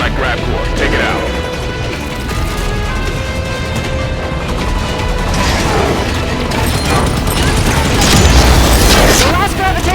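A gravitational core in the Halo video game bursts in a chain of heavy booms and crashing debris over dense battle noise and music, loud and sustained, swelling toward the end.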